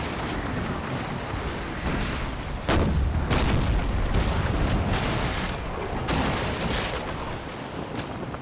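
Cannon volleys in a naval battle from Empire: Total War, a dense rumbling barrage of booming shots that rolls on steadily and swells louder partway through, with no talking.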